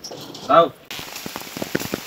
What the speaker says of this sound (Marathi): पाऊस अक्षरशः भरपूर पाऊस आलाय